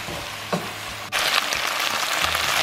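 Beef stew with thyme and bay leaves being stirred in a hot pot, steady sizzling with a few soft scraping stirs, the frying noise jumping louder after a brief pause.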